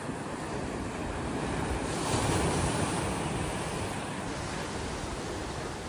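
Ocean waves wash along the shore at Estoril as a steady, broad surf roar with mild wind noise, swelling slightly midway, no voices present.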